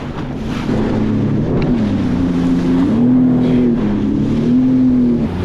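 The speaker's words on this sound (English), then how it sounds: "It's a little bouncy out here, getting very, very wet. But might as well get wet while on a Sea-Doo." A Sea-Doo personal watercraft runs over windy ocean swells, its engine droning loudly with a wavering pitch as it bounces, while heavy wind buffets the microphone throughout.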